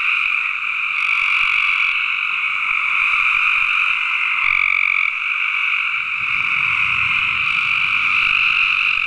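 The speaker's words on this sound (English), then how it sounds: "Couple thousand frogs." A couple thousand frogs at a big pond croak together in an unbroken, loud chorus that holds steady throughout, with no one speaking.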